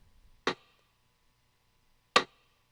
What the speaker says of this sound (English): some rim shots